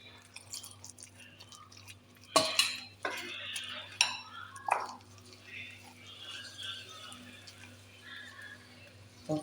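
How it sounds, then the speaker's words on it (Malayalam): A spoon stirs snack batter, the same mix used for banana fritters, with water in a bowl, giving a few clear clinks and scrapes against a steady low hum. "ഒന്ന് കലക്കിയെടുക്കാം"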